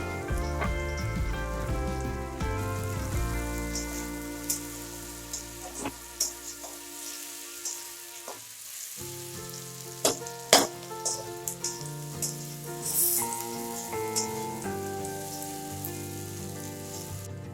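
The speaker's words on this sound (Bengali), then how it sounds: "এবার আমি পেঁয়াজগুলো তেলের মধ্যে দিচ্ছি।" Onions hit hot oil and sizzle close up with popping crackles, mixed with clinking and stirring noises and a tonal hum that cuts out partway through.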